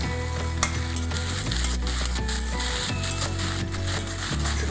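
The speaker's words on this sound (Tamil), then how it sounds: "1 தக்காளி போடுறேன்." A chopped tomato goes into a hot pan with dried red chillies and ginger for samba rava upma, sizzling steadily with a constant frying hiss close by, over a low hum and a few faint clinks.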